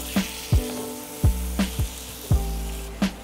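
Onion, garlic and ginger paste fries in a pan while a spoon scrapes and stirs it, several distinct knocks and scrapes against the pan over a soft sizzle.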